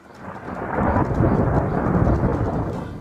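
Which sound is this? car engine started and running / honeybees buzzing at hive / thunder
thunder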